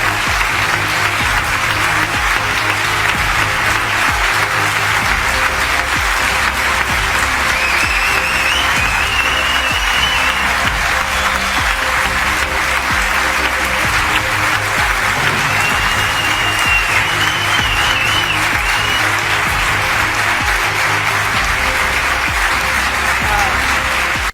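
A long sustained ovation from a studio audience on a Spanish public television show, loud continuous applause and crowd noise holding steady throughout, with faint cheering woven in and no speech.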